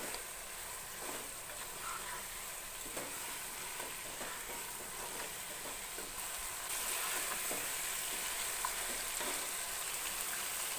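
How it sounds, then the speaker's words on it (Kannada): Oil sizzles steadily as chicken fries in tempering oil in a pan, with intermittent scraping stirs cutting through the constant crackle, close by. "ಒಗ್ಗರಣೆಯಲ್ಲಿ ಚಿಕನನ್ನು ಫ್ರೈ ಮಾಡ್ಕೋಬೇಕು"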